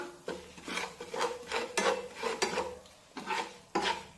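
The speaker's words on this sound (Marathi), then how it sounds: "बेसन पीठ तेलामध्ये व्यवस्थित परतून घ्यायचं आहे" Besan flour is stirred in oil in a pan over a low flame, making rhythmic, close scraping and rubbing strokes of a spoon against the pan, about two per second, with no one speaking.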